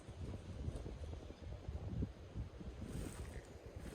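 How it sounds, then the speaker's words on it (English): Rushing water from a small waterfall on a stream below a path, a steady broadband roar that sits in the background with outdoor wind noise and no talking. "pause here sometimes so you can hear the waterfall from the stream down there"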